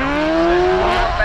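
Stock car engines in a Class 14 race at Scunthorpe rev loudly and close by, one rising whine climbing steadily in pitch through a short, intense burst.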